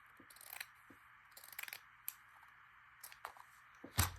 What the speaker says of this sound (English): I want to incorporate some of this red burlappy stuff. So I'm going to just cut a strip.